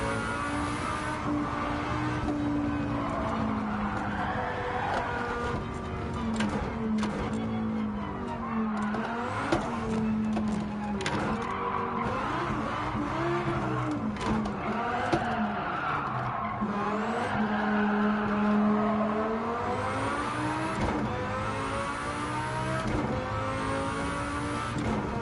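Engine of a race car in the Gran Turismo racing game, played on a G29 steering wheel in VR, roaring steadily with shifting revs and repeated tire skids and squeals throughout, loud and without any talk.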